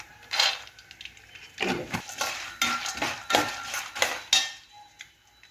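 Chana dal sizzles while being fried in a pan, with repeated metal spoon scrapes and clanks against the pan in short bursts, fairly close and distinct.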